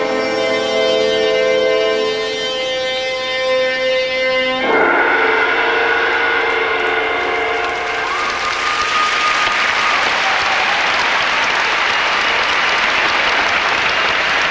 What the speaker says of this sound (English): What might best be judged lukewarm applause from the audience for Petr Barna